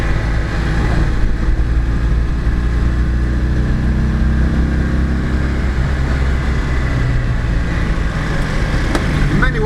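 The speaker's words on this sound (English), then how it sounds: "It's impossible to drive this car gently." A Citroen Ami 6's small engine drones steadily from inside the cabin, loud and buzzy, with the rough hum of the road continuing throughout.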